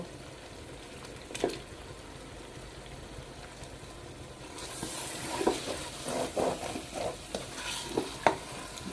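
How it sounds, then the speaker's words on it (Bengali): Round slices of tomato going into a hot frying pan during a chicken roast, a quiet background hiss that swells into a brighter sizzle midway, with scattered clinks and scrapes of stirring. "গোল গোল করে কেটে রাখা টমেটোগুলো আমি সব দিয়ে দেব"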